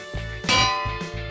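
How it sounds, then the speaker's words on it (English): A Minecraft bell triggered by an observer sounds as repeated metallic clangs, one sharp strike ringing out at the centre with weaker strikes on either side, each leaving a bright sustained tone, close and alone. "Once you wake up, the bell will ring"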